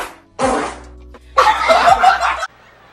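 Two fart noises sound close and loud: a short burst first, then a longer, rougher one after a brief pause, each ending abruptly.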